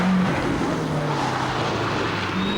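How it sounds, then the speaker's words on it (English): A Subaru RX Turbo rally car drives through a 1986 RAC Rally stage, its engine a loud, steady roar with a gradually shifting pitch, holding close throughout with no talk. "next through is the Subaru RX Turbo of John Morton and Dillis"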